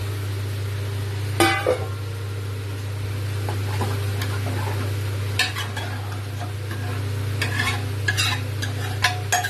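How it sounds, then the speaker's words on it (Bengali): Water goes into a hot pot of Punjabi salted rice on the stove, a continuous sizzle and hiss with occasional scraping stirs of a spoon against the pot, steady and close over a low hum. "এবার জল দিয়ে দেবো পরিমাণ মতন।"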